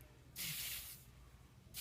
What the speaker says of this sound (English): I'm just going to spray it through her hair, looking to get more towards the roots of her hair